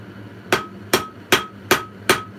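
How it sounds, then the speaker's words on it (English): Five evenly spaced, ringing hammer blows strike metal up close while a bottle opener is forged, each hit sharp and loud, with a short metallic ring after it. "Not like the ideal way to be hammering either."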